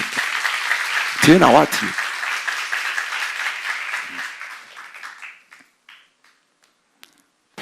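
A church seminar audience applauds steadily for about five seconds while someone speaks over it, then the clapping dies away to near silence.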